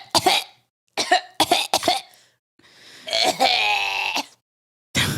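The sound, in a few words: coughing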